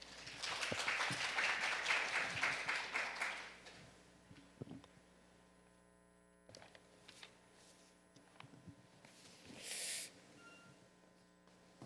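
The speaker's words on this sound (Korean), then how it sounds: "여러분 격려의 박수로 맞이하겠습니다." An audience at a chemistry workshop claps to welcome a presenter, with a burst of moderate applause that fades after a few seconds and leaves quiet room noise with occasional small knocks.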